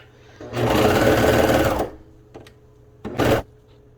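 A sewing machine stitches a garment seam near the neckband: one long steady run of rapid stitching, a pause, then a second brief burst, close and loud.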